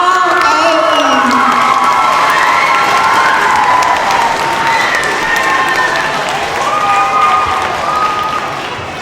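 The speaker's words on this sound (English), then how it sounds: "One more round of applause for 3rd grade students who made all A's." Applause and cheering from a crowd of parents and children at an elementary school awards ceremony honoring third-grade students, steady loud clapping with excited shouts throughout, fading slightly at the end.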